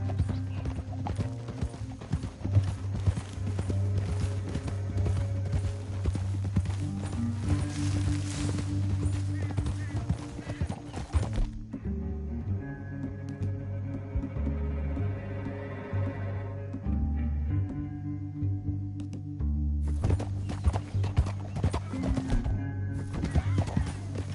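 Horse hooves clip-clop in a steady walking rhythm over music in the video game Red Dead Redemption 2, pausing briefly mid-way, with a horse whinnying at one point.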